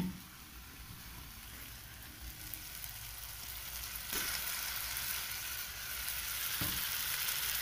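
Chopped potatoes going into a frying egg potato curry, with a steady close sizzle that swells slightly louder partway through, marked by a couple of soft knocks as the pieces are dropped and stirred in.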